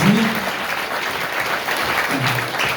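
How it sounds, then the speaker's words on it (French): An audience claps steadily throughout at an honour-and-merit ceremony, dense sustained applause with a faint voice briefly rising over it near the start and again toward the end. "vous l'applaudissez très fort, s'il vous plaît, il mérite"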